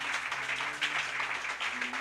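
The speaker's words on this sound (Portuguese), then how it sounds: "Aplauda ao Senhor Jesus Cristo com alegria." A church congregation claps at a low level, the patter soft and continuous beneath a faint sustained tone from music in the background.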